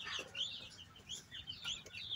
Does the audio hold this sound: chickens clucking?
yes